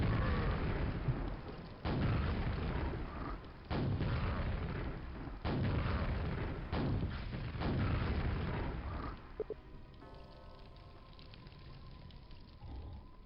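Rocket explosions in Quake: Scourge of Armagon boom one after another in a heavy, rumbling barrage for about nine seconds, then give way to quieter game noises.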